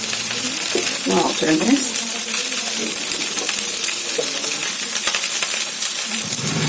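Food sizzles and crackles steadily while frying in plenty of ghee, with a continuous bright hiss that sounds close by. A person speaks briefly over the sound near the start.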